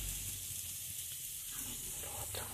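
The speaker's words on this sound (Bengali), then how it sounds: "নিয়ে এবার কি ভাজতে দিয়ে দেবো" A thin rumali roti fries on a hot pan without oil, giving a faint, steady sizzling hiss heard up close with no talking.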